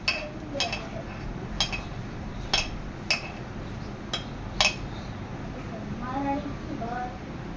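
Cumin, ajwain and chopped coriander are stirred in a bowl, a spoon clinking against it in about seven sharp, evenly spaced taps, with a soft scraping swirl near the end.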